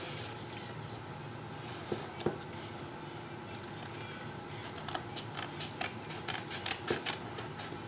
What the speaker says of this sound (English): All right, let's trim this off.